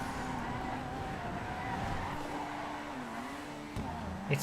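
Engine of a car in a GTA FiveM online race, set up without advanced handling flags, drones steadily with shifting pitch as it accelerates, loud and continuous, with a brief knock near the end.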